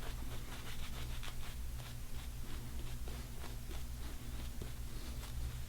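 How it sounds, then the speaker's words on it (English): A shaving brush works lather onto a face for a second pass during a wet shave, giving a steady, close bristly rubbing and swishing that continues unbroken throughout. "Let's re-lather for a second pass."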